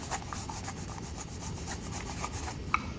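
Object being rubbed vigorously by hand to build static charge, a quick rhythmic scratching with repeated back-and-forth strokes, close and fairly quiet.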